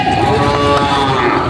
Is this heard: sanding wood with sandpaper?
no